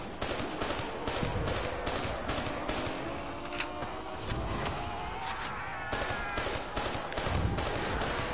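Gunfire in the video game Call of Duty: dense, rapid shots and bursts crackle continuously and loudly with no pause.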